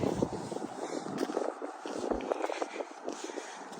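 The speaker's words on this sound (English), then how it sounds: "It's kind of windy." Steady wind rushes and buffets across the microphone in an outdoor garden in March, a continuous blustery roar with no voices.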